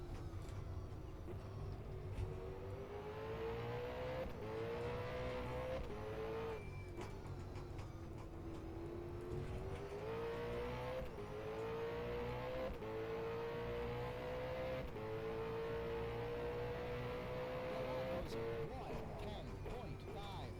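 Supercars race car engines in a career-mode racing game drone loudly and continuously, climbing in pitch through gears and dipping on downshifts, while a person talks over the top.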